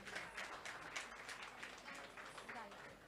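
Audience applause for children's dance performers at a dance festival fills the space with a dense, moderately loud patter of many hands, with voices mixed in beneath.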